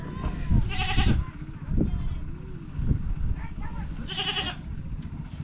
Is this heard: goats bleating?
yes